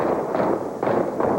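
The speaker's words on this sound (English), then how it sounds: "The sound of gunfire financed by diamonds." Gunfire in a violent African conflict zone sounds as a dense, muffled stream of distant shots and booms, a steady rumbling barrage with a few sharper bursts and no speech.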